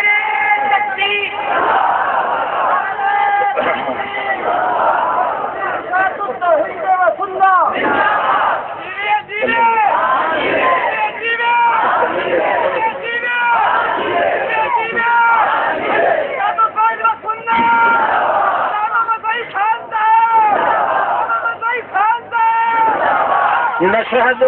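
A large crowd roars a takbir chant together during a religious address about the Prophet Muhammad. Many voices surge in repeated loud bursts that fill the whole stretch without pause.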